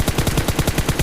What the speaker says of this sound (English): The problem is when you go full auto, right?